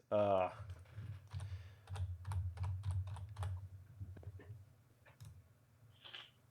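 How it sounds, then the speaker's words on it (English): Computer keyboard typing in a quiet room, a quick run of clicky keystrokes in bursts over a steady low hum, after a brief spoken word at the start. "I have to type this in now."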